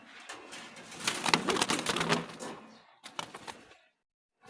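Jalali pigeons in a loft giving soft, busy cooing with some fluttering and shuffling, loudest mid-clip, then a brief burst before falling quiet.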